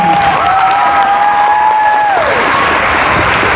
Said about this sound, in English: One more round of applause for 13 passes.